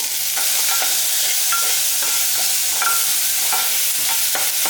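Shallots sautéing in a pan for goat head curry, giving a loud, continuous sizzle broken by scattered scraping strokes from a stirring spoon.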